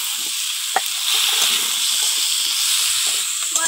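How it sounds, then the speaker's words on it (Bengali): Pumpkin pieces frying in a pan with turmeric and salt give a close, loud, continuous sizzle and hiss, with small stirring scrapes breaking through now and then. "হলুদ আর লবণ দিয়ে ভালো করে কুমড়োটাকে কষিয়ে নেব।"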